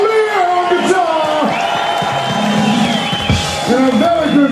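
A concert crowd greets the guitarist with loud whoops, shouts and cheering, voices rising and falling over a sustained roar, with a little clapping underneath.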